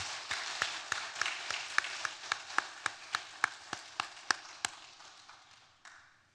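Applause at a Korean church worship service honoring the men's fellowship, a dense crowd of clapping that carries a steady rhythmic beat of sharper claps throughout, then fades out at the end, with no voices heard.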